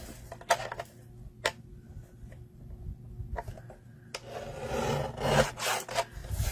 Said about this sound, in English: Just trim that end off a little bit.